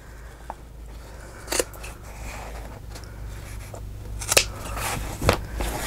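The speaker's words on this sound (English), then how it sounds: "I think what I'm going to do here is cut these corners off" Sewing scissors cut off paper corners for a journal cover, with several distinct close snips spread out over a soft steady hum.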